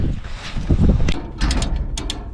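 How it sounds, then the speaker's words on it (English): Ratchets are worked by hand while fixing a broken calf shelter, with a few quick mechanical clicks near the end over rustling outdoor noise and wind rumble. "So I'll sit here and fiddle with the ratchets for a while."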